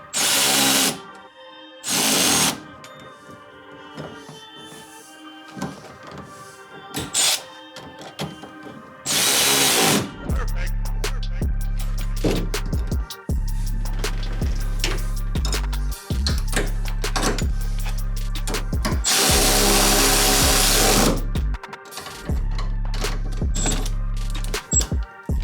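A power drill on a 1993 Honda Civic tightens the master cylinder mount for a KLM Race inline staging brake, firing in several loud, close bursts of whirring and ratcheting separated by short pauses and quieter clicks.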